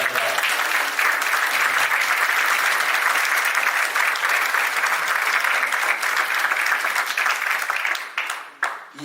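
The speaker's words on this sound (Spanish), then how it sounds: "Y por cierto, brindarle un gran aplauso a Diego por este gran trabajo." Sustained audience applause fills a hall at a municipal book presentation in Pichilemu, loud and steady throughout before tapering off in the last second.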